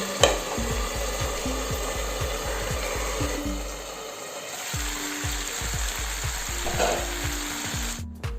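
Kerala-style chicken roast masala sizzles steadily in a pan while a spoon scrapes and stirs it in quick repeated strokes, loud and close throughout, with no talking.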